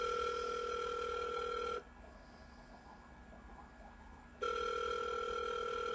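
A telephone ringback tone sounds on an outgoing call: a steady electronic ring for nearly two seconds, a pause of about two and a half seconds, then the ring starts again. The tone is clear and alone, with no talk.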